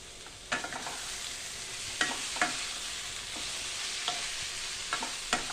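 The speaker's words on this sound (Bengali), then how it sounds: "দিয়ে এবার চিকেনটাকে ভালো করে মশলার সাথে কষিয়ে নেব।" Chicken being stir-fried with spices in a pan, a steady sizzle broken by several sharp scraping stirs at irregular intervals, close and moderately loud with no voices.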